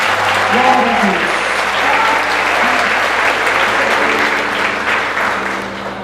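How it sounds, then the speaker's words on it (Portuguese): Church congregation applauding the Lord during a Brazilian evangelical service, a loud, dense and sustained wash of clapping throughout, with voices mixed into the crowd noise. "Aplauda o Senhor, meu irmão."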